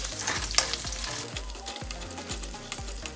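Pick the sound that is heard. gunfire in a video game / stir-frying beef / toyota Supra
stir-frying beef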